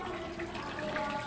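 Tap water running steadily into a basin being filled for laundry, a soft continuous pouring rush heard close and fairly quiet, without talk.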